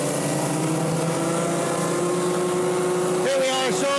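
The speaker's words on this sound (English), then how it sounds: "we're running one engine for up to 9 gallons a minute" A single-engine sewer jetter pumps up to 9 gallons a minute at about 3,900 PSI with a loud, steady drone. Near the end its pitch dips and rises as the load shifts.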